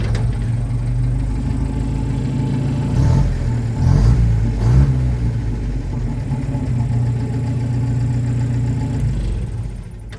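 An Austin 16 car engine idles steadily up close, a low continuous rumble with a few brief rises in revs near the middle before settling back, no voices present.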